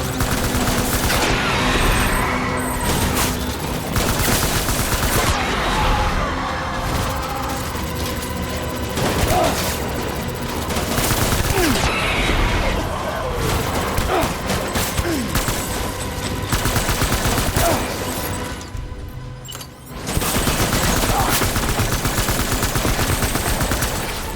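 Sustained automatic gunfire in the video game Death Stranding, with dense overlapping machine-gun bursts and loud cracks that run almost continuously and briefly ease near the end.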